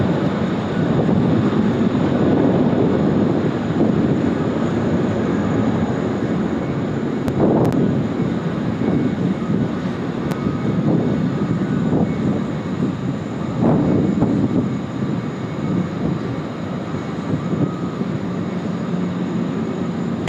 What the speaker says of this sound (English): This will be a lovely long takeoff roll here from Emirates